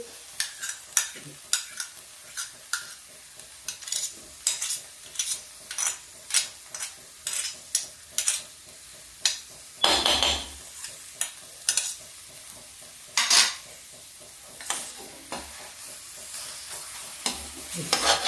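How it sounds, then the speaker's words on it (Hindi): Pumpkin halwa cooking with sugar over a low flame is stirred with a spoon, giving repeated sharp scraping strokes against the pan under a soft, continuous sizzle. "अब थोड़ा सा हम गैस को धीमी कर देंगे और इसको धीमी आंच में शक्कर बना लेंगे।"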